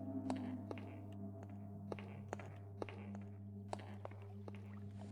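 Footsteps on a tile floor in the video game Thief II, sharp, evenly spaced clicks over a steady low hum, fairly quiet with no talking.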